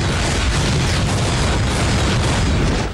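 Continuous heavy booming and blasting from cartoon cannon fire, loud and close, like a barrage rolling without pause, with no talking over it.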